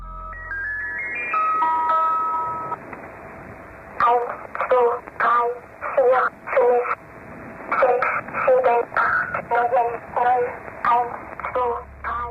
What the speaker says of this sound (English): These usually transmit sequences of spoken numbers, tones, or coded messages, often in eerie, mechanical voices.